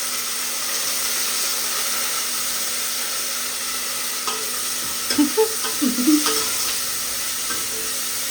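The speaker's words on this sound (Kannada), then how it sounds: "ಇದಕ್ಕೆ ತೊಳೆದು ಕಟ್ ಮಾಡ್ಕೊಂಡಿರೋ ಮೆಂತ್ಯ ಸೊಪ್ಪು, ಫ್ರೈ ಮಾಡ್ಕೋಬೇಕು" Chopped fenugreek leaves sizzle steadily in a hot pan, with a few clattering stirs of a spoon partway through.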